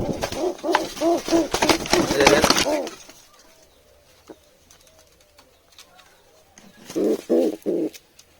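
Siraji pigeons with their chicks make soft, rhythmic cooing nearby in a burst at the start, then near silence, then a shorter run of coos near the end.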